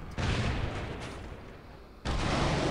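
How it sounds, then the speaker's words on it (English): Hydra missile launchers in the War Robots video game firing salvos, dense rumbling bursts of rapid launches that fade out briefly and then resume loudly, with no talking. "these hydras are so effective"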